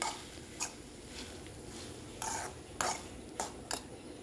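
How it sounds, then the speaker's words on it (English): A spoon stirs an ivy gourd (kovakka) stir fry with masala in a pan, making soft scraping strokes at uneven intervals. The sound is quiet and close, with no one talking. "And just stir it very well so that all the masalas are mixed well."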